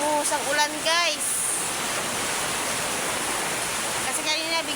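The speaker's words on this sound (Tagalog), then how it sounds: "Yan, bumagsak na yung ulan. Lakas pa naman ang hangin." Heavy rain pours down amid strong wind, a loud, steady wash of hiss filling the whole stretch, with a voice speaking briefly near the start and again near the end.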